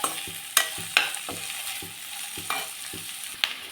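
Onion frying in a pot alongside other vegetables for a Karnataka-style mixed-legume masala sambar, with a steady close sizzle broken by sharp clacks of a spoon scraping and stirring about every half second.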